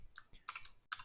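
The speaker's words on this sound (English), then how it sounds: "now I'm just going to type HTTP" Quick bursts of close computer keyboard typing, a handful of light clicky keystrokes in two short runs separated by a brief pause.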